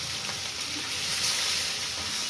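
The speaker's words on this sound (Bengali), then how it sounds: "এই মাছ এই তেলে মাছটি দিলাম।" Fish frying in hot oil in a wok, giving a steady, dense sizzling hiss that holds at an even level throughout, close and continuous with no voices.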